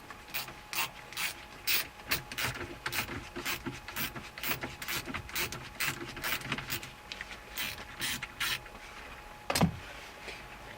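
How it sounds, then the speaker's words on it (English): A hand ratchet clicks rapidly and steadily, close up, as 7mm bolts are backed out of the factory radio in an 08-10 Ford F250 dashboard, with one louder scrape near the end. "we have four 7mm bolts right here. We're going to go ahead and remove all of them."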